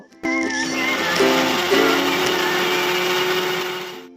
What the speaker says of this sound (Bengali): এই চার মগজ পোস্তর সাথেই পেস্ট করে নেব।